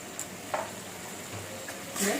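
Spices with turmeric and salt frying alongside pabda fish in a pan, giving a soft steady sizzle broken by a few light scrapes of the stirring spoon, close and moderately quiet.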